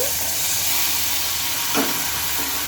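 Chili powder, salt, turmeric and a little water sizzling in a hot pan for a cauliflower and lentil dhoka dish, a loud steady hiss with a brief stirring scrape near the end.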